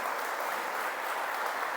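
A church congregation claps for themselves during a sermon, a brief, even wash of applause at moderate distance.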